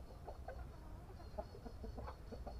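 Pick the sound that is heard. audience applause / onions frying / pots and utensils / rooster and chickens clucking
rooster and chickens clucking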